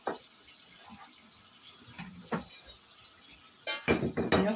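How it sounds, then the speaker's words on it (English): Wedding cookie mixture being scraped from the bottom of a bowl and stirred, quiet scraping strokes with a few louder bursts of scraping and clinking near the end. "I'm just getting all this scraped off the bottom so I can stir all this in."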